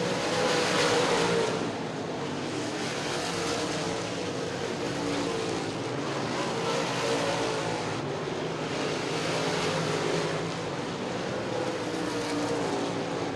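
Late model race cars roar steadily around a track in the closing laps, a continuous loud engine drone with passing swells, no voices.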